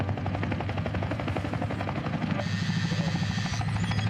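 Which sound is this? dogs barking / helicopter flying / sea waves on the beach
helicopter flying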